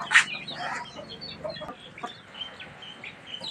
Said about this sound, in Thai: ไก่เยอะแยะเลย ไก่อยู่ตรงนี้เหรอลูก